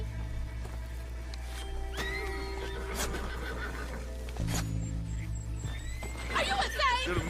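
A horse in Red Dead Redemption 2 whinnies over a busy game soundscape with clip-clopping hooves, and the neighing climbs loudly near the end; voices talk during it.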